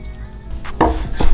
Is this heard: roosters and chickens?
no